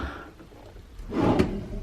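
A hotel room drawer slides and knocks shut: a soft scrape followed by a fuller wooden bump near the end, close by and with no talk.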